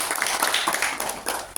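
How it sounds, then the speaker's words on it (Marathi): Brief clapping from an audience at a college elocution competition welcoming a department head, a short burst of close hand claps with uneven rhythm, fairly loud for under two seconds. "त्यांचा आपण सर्वांनी टाळ्या वाजवून स्वागत."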